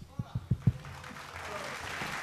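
Crowd applause for a singer's performance at a vocal competition show, a few sharp claps at first, then a steady wash of clapping and cheering that swells and holds for a couple of seconds.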